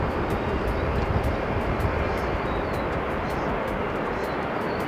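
A Qantas airliner passes over Okinawa, a steady, broad roar of jet engines that holds at an even level for the whole stretch without any break.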